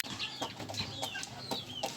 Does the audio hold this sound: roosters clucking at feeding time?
yes